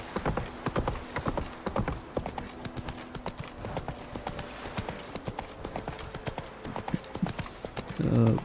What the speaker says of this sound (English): Let me take my horse.